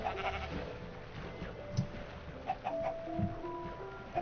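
Sheep in Minecraft give a few short bleats at moderate distance, scattered over a quiet game backdrop with faint background tones.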